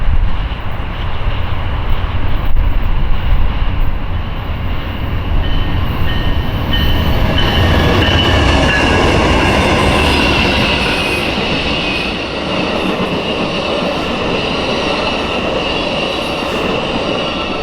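An Amtrak Floridian passenger train, led by locomotive 75 in fresh Phase 7 paint, rolls steadily past at close range, its loud continuous rumble and wheel noise filling the scene with no one speaking.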